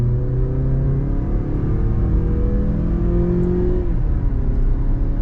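A Mazda CX-50 Select in normal mode accelerates hard onto a highway, its engine note rising steadily as it revs up, with a near, continuous drone and whir throughout and no talking.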